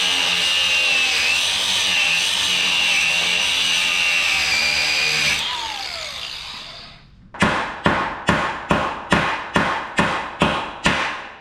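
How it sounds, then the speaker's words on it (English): On a farm, a power tool grinds loudly and continuously through carriage bolt heads spinning in wood, winding down after about six seconds, followed by a close, evenly spaced series of about nine sharp mechanical bursts. "They use carriage bolts and the heads are turning in the wood, so we'll have to just grind them off"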